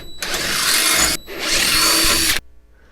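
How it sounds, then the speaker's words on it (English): A power drill whirs loudly in two bursts, about a second each, with a brief pause between, close up, drilling mounting holes for a transmission cooler. "I'll drill out those holes first and install it"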